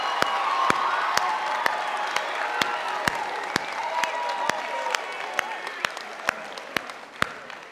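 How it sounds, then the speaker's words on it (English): A crowd of high school students at a leadership conference claps in a rhythmic, regular beat, loud sharp claps about twice per second over a bed of cheering and shouting voices. "clap our hands and make some noise"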